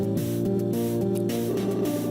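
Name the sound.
shutters opening in Cave Story video game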